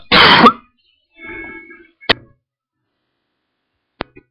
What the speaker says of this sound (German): das war ein Husten